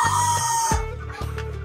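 A hen with an unfamiliar health problem clucks and calls loudly close by, in a few strained, drawn-out vocal bursts.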